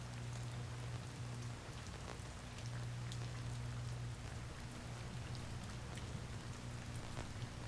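Minecraft rain pours in an even, quiet hiss over a faint low drone, with scattered tiny drop ticks and no voices, continuing unchanged for nearly eight seconds.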